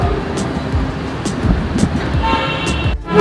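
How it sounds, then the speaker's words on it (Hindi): Dense city road traffic near a metro station construction area in Karachi, with a steady roar of engines and several short car horn toots standing out over the din, fairly close and loud throughout. "इस वक्त आपको काफ़ी शोर सुनाई दे रहा होगा ट्रैफिक का"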